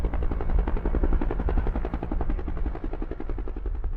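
An NYPD police helicopter arriving over the scene, its rotor beating in a loud, fast, steady chop that stays close and constant throughout.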